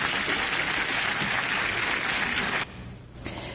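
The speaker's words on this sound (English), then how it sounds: "So I want to give her a round of applause." Applause rings out at a county commissioners' meeting, a dense, steady crowd clapping that stops abruptly near the end, with a brief softer patter after.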